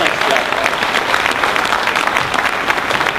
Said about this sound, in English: big round of applause for Jerry DeLemus.